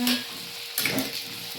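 Red onions hit a pan of pork humba with eggplants, giving a brief close sizzle with a couple of sharp utensil clinks over the frying hiss and no voices.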